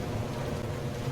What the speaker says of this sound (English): It's a little stormy